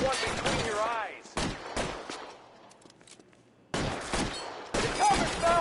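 Gunfire in the video game L.A. Noire: bursts of shots ring out in clusters, separated by a quieter gap, with a voice speaking between and over the shooting.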